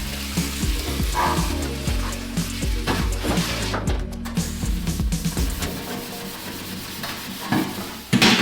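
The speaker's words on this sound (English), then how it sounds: "I do have to do a bit of scrubbing" Rough sponge scrubbing a stained dish, giving a steady, close rasping rub with irregular bursts of strokes throughout and no talking.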